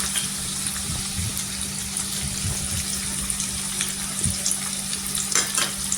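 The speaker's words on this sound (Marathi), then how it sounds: "इथे 2 ते 3 कांदा कट केलेला आहे ते टाकायचं। इथे कढीपत्ता टाकायचा। इथे तेलावर आहे ना छान असं परतून घ्यायचं" Sliced onions and curry leaves frying in oil in a kadhai, a loud steady sizzle with occasional spatula scrapes and a low constant hum beneath, no speech.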